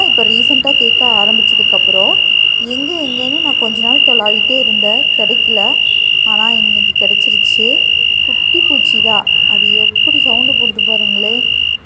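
A shrill whistling insect on a rooftop garden calls in one unbroken high tone, produced by vibrating wings, loud and close, while someone talks over it.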